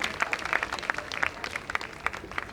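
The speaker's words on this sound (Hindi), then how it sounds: "उसके लिए तालियां बजा दीजिए रंजीत चौहान" Audience clapping at a poetry and Bharatanatyam dance event, a fairly sparse patter of distinct individual claps, moderately loud and uneven, with no one talking over it.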